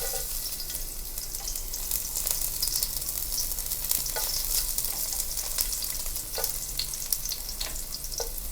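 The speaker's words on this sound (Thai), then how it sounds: "แล้วก็เอากระเทียมลงเจียวค่ะ" Garlic frying in oil over moderate heat for a stir-fry of pumpkin, zucchini and egg, a constant bright sizzle with scattered pops and stirring scrapes, close and steady, no voices.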